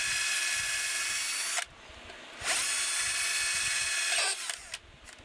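A power drill with a 1/8-inch bit whines loudly as it bores into a guitar body. It stops briefly, then runs again for a couple of seconds before winding down, heard up close with no talking.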